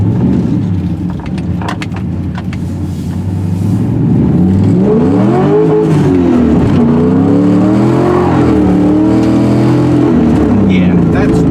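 An LS V8-swapped Porsche 944 idles, then accelerates hard with a loud rising engine roar through several gear changes while spinning the tires, heard from inside the car.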